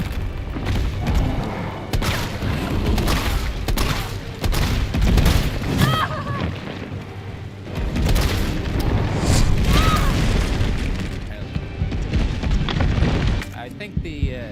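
Shotgun blasts and heavy booms from Resident Evil 3 keep up steadily as loud, dense game audio, with voices talking over the action.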